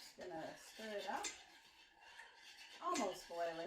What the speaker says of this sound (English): Just gonna stir it up.